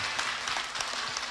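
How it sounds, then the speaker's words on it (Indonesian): Steady applause from a crowd, dense and continuous, with a few louder individual claps rising out of the wash. "Tepuk tangan dong."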